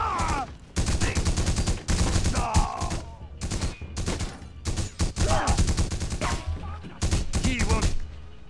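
Gunfire from The Punisher video game rattles in repeated rapid bursts and volleys, loud and close, with brief gaps between them and game voices underneath.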